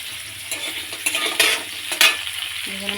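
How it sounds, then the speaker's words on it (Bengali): Onion, whole chilli and bay leaf fry in oil with a close, steady sizzle, broken by a few sharp scrapes and stirring knocks in the pan. "গোটা লঙ্কা দিল আর তেজপাতা আর পেঁয়াজ দেওয়া হলো তেলে ডিমের জন্য।"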